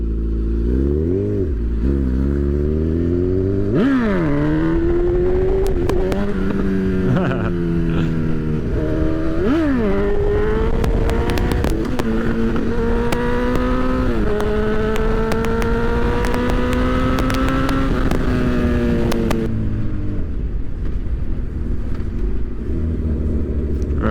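A motorcycle engine revving repeatedly during a wheelie attempt, pitch climbing and dropping in surges over a steady rumble, close and loud with wind noise throughout.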